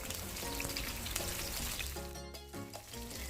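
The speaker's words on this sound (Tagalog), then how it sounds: "ilagay ko ang cooking oil. At ilagay ko na ang onions dito sa pan" Onions frying in hot cooking oil in a pan for red chicken curry, a steady close sizzle with crackling that holds throughout, no voices.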